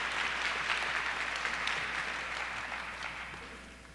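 Graduation-ceremony crowd applauding in a packed hall at a high school commencement, a dense steady wash of clapping that carries on throughout and slowly fades toward the end.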